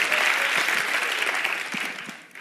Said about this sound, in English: clap for them